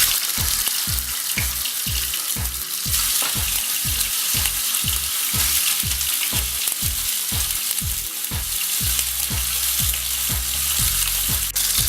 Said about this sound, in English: this has been heating up and I'm just going to add my steaks